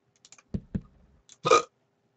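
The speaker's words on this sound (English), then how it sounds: "Got the hiccups." A person hiccups a few times in a quiet room, with two short close hiccups followed by a louder, longer hiccup, alongside a few faint clicks.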